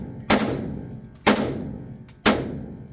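Three loud, close single gunshots from a 5.56 machine gun in the H3VR virtual-reality shooting game, each a sharp crack with a decaying tail, spaced about one second apart and heard alone.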